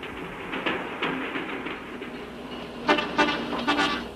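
A descending train rolls past at Pampa de Arrieros in the Peruvian Andes, its wheels clacking rhythmically over rail joints, the beats growing louder and sharper as the cars draw close.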